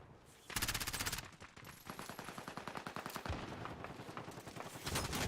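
A shooter video game gun with no recoil fires rapid bursts of automatic fire, first one long stream, then repeated tight volleys with short gaps, loud and close.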